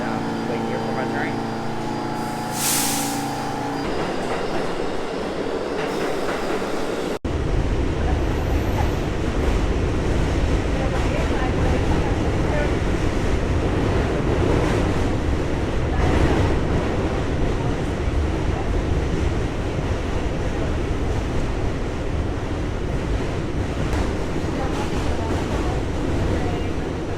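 New York subway train rumbling through a station, a heavy, continuous roar with rattling and screeching that starts abruptly after a quieter stretch of station noise and stays loud throughout.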